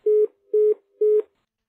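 Three evenly spaced, steady electronic busy-signal tones of about a fifth of a second each, clean and alone, from a phone call placed in the video game Wheely 7.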